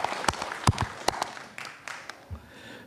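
Scattered clapping from a small audience at a labor party hearing with the Indonesian parliament (DPR), brief sharp claps rising and fading over a few seconds, fairly faint and sparse rather than full applause.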